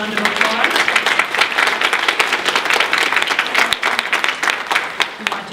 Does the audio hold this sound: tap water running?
no